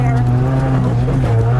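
Off-road Mazda Miata driving over rough ground, a loud steady engine drone with rumbling road noise and tire rubbing underneath, heard from inside the car.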